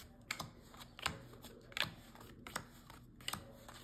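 Soft riffling clicks of cards being shuffled come in short bursts, a handful of quick crisp snaps spaced irregularly, close and fairly quiet.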